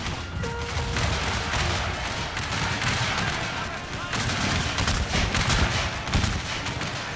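Rolling musket volleys and booming artillery from a massive American Civil War battle in Total War Shogun 2, a dense, continuous din of overlapping gunfire with sharper bursts later on.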